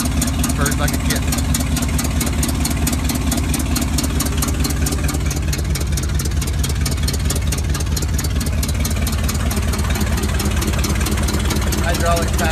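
A 1980 Chevrolet C70 truck with a recently tuned engine, new plugs and wires and a rebuilt carburetor, idles with a steady, loud, rhythmic rumble heard close up, with a person talking over it.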